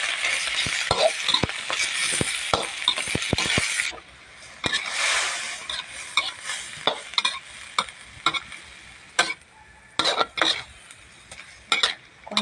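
A large wok loaded with a big batch of fried rice with egg is worked hard, with a busy sizzle under rapid, loud clanks and scrapes of a metal spatula that thin to sparse, irregular knocks.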